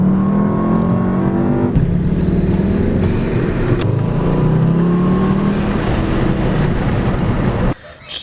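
A Volkswagen GLI driving, with a steady, loud engine drone and road noise from inside the cabin whose pitch rises and falls through gear changes, ending with a sudden drop in sound.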